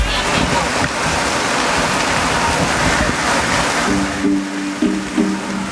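Steady hiss of rain falling throughout, broad and continuous, with a few faint tonal hums near the end.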